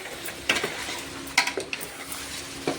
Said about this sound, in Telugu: ఇదంతా బాగా తిప్పాలి, బాగా అంతా కలుపుకోవాలి